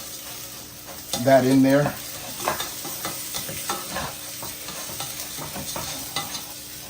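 Rehydrated garlic stirred around a frying pan while making katsudon, a low steady sizzle with scraping strokes of a utensil, and a brief bit of speech near the start.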